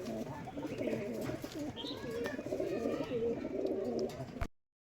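Pigeons, a male and female pair of Rajshahi Giribaj tumbler pigeons, coo in low, rolling, repeated calls close by, overlapping one another steadily before the sound cuts off abruptly near the end.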